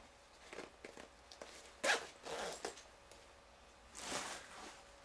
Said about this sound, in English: This is a fanny pack with a zipper problem.